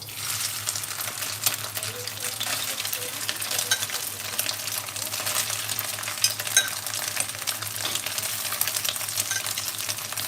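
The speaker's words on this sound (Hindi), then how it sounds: "मैं ये सोयाबीन जो तोड़ी थी छोटे छोटे टुकड़ों में, वो पहले मैं डालूंगी" Small broken soybean chunks fry in hot oil for a soybean masala pasta, making a continuous crackling sizzle with light stirring clinks and a low steady hum beneath, close and even throughout, with no talking.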